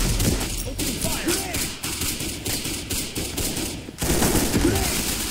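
Rapid gunfire in the Roblox shooter Counter Blox, a loud near fusillade of repeated shots in bursts with brief pauses, layered over busy combat noise.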